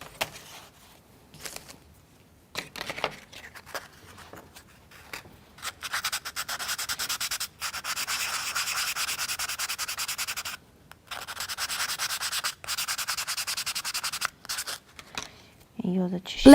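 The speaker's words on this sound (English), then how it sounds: "Let's sand it." Small scale-model V8 engine parts are sanded by hand in repeated short rubbing strokes, with several steady scratchy passes broken by brief pauses, close and fairly quiet.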